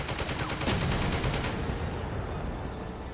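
A tank turret gun fires in a WWII tactical strategy video game, a loud rapid burst of repeated shots for about a second and a half, then rumbling decay and echo.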